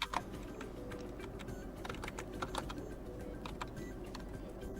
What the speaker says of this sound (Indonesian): saya akan mengetik perintah lain